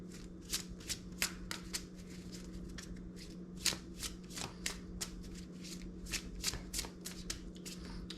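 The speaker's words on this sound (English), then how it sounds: "I'm going to draw a couple more cards here and then we'll call it quits." Tarot cards from an Occult Tarot deck are shuffled and drawn up close, a run of quick crisp riffles and flicks repeating irregularly over a faint steady hum, with no talking.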